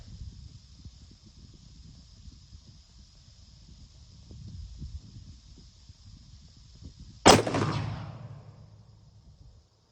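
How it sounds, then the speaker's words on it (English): A single sharp rifle shot from a brand new rifle on a shooting range, loud and close, ringing out briefly after a stretch of quiet outdoor ambience with a high insect-like whine. "We're going to shoot another shot right there"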